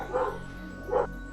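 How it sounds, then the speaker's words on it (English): A pet dog barks twice indoors, two short close yaps about a second apart over a quiet room background. "my dog just started going crazy"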